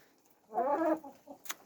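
A single short cluck from a rooster, close and fairly quiet, followed by faint rustling.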